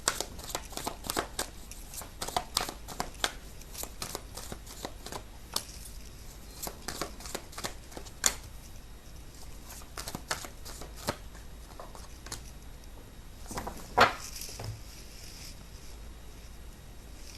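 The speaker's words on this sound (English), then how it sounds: "I'm going to end this here with the last 3 cards" Tarot cards are shuffled close up in a quiet room, with many sharp papery riffles and flicks in irregular bursts and a louder snap near the end, with no talking.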